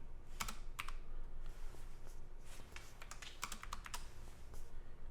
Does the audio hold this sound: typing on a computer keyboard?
yes